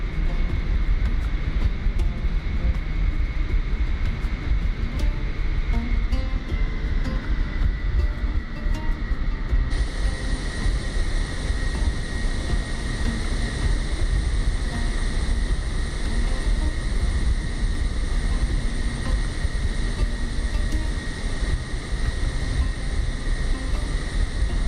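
Jumbo jet taxiing in Microsoft Flight Simulator, a steady loud engine rumble and whine that holds throughout, with a brighter high hiss joining partway through.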